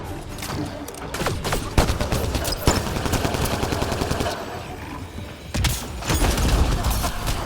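Rapid sustained gunfire from the Ammo Strike ability in Mass Effect: Andromeda, dense loud bursts with booming impacts rolling across the whole stretch, briefly easing before another heavy volley.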